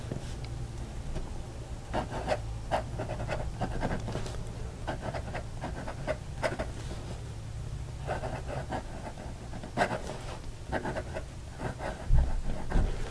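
A PENBBS 323 fountain pen nib scratches across paper, a close, continuous dry rasping with irregular ticks and strokes as letters are written, steady and alone.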